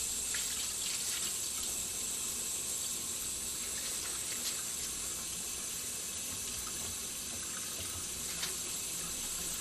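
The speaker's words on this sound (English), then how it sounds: "Turn on the faucet with a paper towel if possible, and dispose of the paper towel properly. 2. Wet your hands and apply soap." Steady rush of tap water from a faucet running into a sink during handwashing, a continuous close hiss with no voices.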